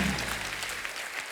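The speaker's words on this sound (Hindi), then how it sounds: "जोरदार तालियां हो जाए हमारे चारों मेहमानों के लिए" Studio audience applause for four guests on a Hindi comedy talk show: a dense, steady wash of clapping, fairly loud, holding through the short stretch with no voices over it.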